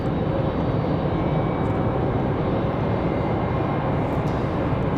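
A Frontier Airbus A321 airliner taking off at Raleigh-Durham International Airport on a windy day, a constant broadband engine roar heard from a distance with wind noise and no talk.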